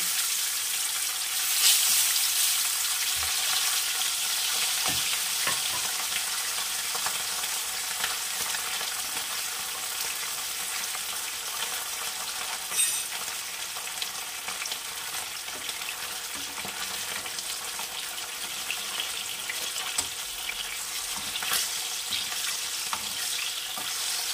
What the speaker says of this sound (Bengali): এবারে আমি ভেজে নেব নুন হলুদ মাখিয়ে রাখা পাবদা মাছ, এটা আমি ভেজে নেব।